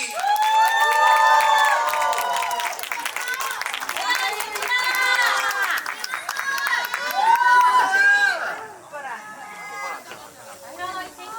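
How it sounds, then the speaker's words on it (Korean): Loud, high-pitched cheering and shouting, with some clapping, fills the hall at a children's K-pop cover dance recital, then fades toward the end. "큰 박수로 맞이해 주시기 바랍니다"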